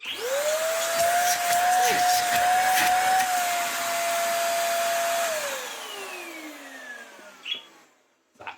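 A small Beldray BEL0700NV2GRY150 corded stick vacuum, used as a hand vacuum, runs with a steady, loud whine, then winds down and falls quiet near the end.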